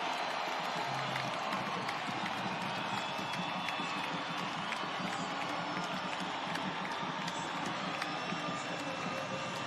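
A home stadium crowd at a Phoenix Rising FC match against San Antonio FC roars in a continuous, distant-sounding wall of cheering and clapping after a goal puts Phoenix 3-0 up.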